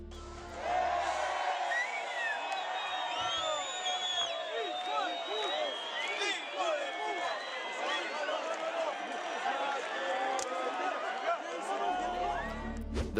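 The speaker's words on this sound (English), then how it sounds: "the crowd really got worked up when a meteor appeared just behind the stage" A concert crowd at night erupts in loud, dense cheering, shouting and whooping, many voices overlapping continuously from start to finish as a meteor streaks across the sky behind the stage.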